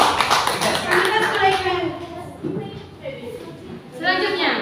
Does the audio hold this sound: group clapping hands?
yes